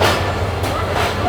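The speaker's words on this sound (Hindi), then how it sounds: "बड़ा साफ़ सुथरा बिल्कुल तैयार है सक्कर एक्सप्रेस को कराची ले जाने के लिए" Sukkur Express train at Rohri Junction in Pakistan, ready to depart for Karachi, giving a steady, close rumble with faint clatter that carries evenly throughout.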